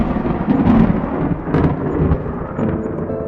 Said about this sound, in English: The thunder announces his presence.